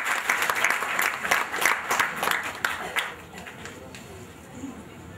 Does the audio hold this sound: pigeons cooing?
no